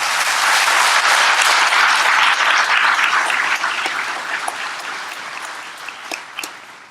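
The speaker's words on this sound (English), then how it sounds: "If you please give them all a big round of applause" A large audience at a 2019 awards ceremony gives loud, dense applause that holds steady, then thins and fades toward the end as a few last claps trail off.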